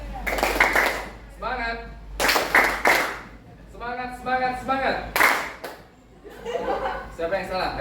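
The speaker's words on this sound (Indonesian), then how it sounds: "Kalau saya bilang semangat tepuknya 3 kali" A class claps hands in short rhythmic bursts on cue, alternating with a voice giving instructions and brief laughter in between.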